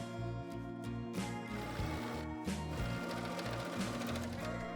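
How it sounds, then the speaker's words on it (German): A sewing machine stitches the side seam of a denim jacket, running at a steady rapid clatter with short pauses and restarts, close and alone. "Ich nähe jetzt die Seite meiner Jacke"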